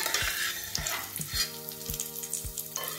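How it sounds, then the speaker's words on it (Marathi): Raisins frying in hot ghee, a steady close sizzle broken by regular sharp taps of a spoon against the pan roughly every half second. "मनुके पण असेच परतून घेणार आहे ह्याच्यामध्ये तुपामध्ये छान."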